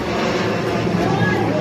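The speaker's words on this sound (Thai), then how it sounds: "โอ้เครื่องบินมาอีก" A Lao airplane passes overhead, a loud continuous engine drone rumbling steadily without letup.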